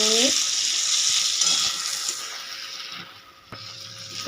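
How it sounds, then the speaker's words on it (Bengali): Masala with grated green chilli and ginger sizzles in a hot pan while being stirred and sautéed, a dense close frying hiss with scraping spatula strokes, fading somewhat toward the end. "দিয়ে এখন একটু ভালো করে মিশিয়ে নেব মশলাটা"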